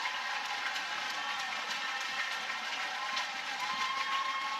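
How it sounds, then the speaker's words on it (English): A softball crowd at Love's Field in an Oklahoma versus Oregon game cheers in a steady, dense wash of noise, even and sustained throughout with no single voice standing out. "Crowd on its feet at Loves Field."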